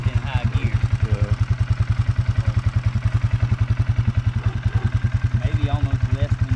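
A 2020 Polaris Sportsman 450 ATV with an Epi clutch kit runs close by, its engine thumping in a fast, even pulse. People talk over it.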